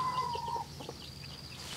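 Chickens cluck softly at a rural forest home, a thin tonal call briefly at the start, then scattered quiet clucks over low background ambience.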